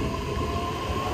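An E31 series train departs nearby, rumbling steadily with a low continuous drone and a faint electric whine, no voices.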